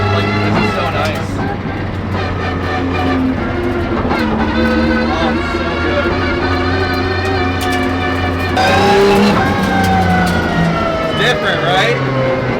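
A high transmission whine rises and falls in pitch over a loud, steady engine drone inside a moving car with a swapped engine, sounding close and continuous throughout.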